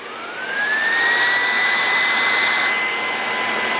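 Bissell PowerForce Compact canister vacuum with turbo brush, a loud steady whine that rises in pitch as it spins up and then holds, close and continuous with no talk.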